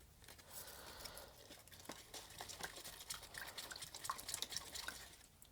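Plant roots being rinsed under water at a faint, close level, with soft splashing and trickling that patters irregularly and grows a little busier toward the end, no one talking.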